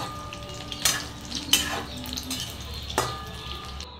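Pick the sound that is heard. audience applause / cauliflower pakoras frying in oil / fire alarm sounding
cauliflower pakoras frying in oil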